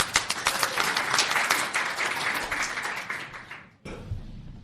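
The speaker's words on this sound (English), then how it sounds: "Applause." Live audience applause at a podcast recording at a software testing conference, dense clapping filling the room for nearly four seconds before cutting off abruptly, followed by quieter room noise.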